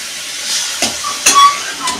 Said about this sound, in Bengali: হালকা একটু কষিয়ে নেব আমি।